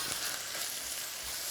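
Minced meat frying in a pot, a steady close sizzle with soft crackles running evenly and alone throughout.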